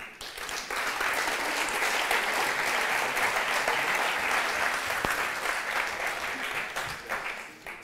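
An audience applauds the Klassroom team at a presentation event, a full, steady burst of many hands clapping that swells quickly, holds for several seconds, then tapers off, with no one speaking.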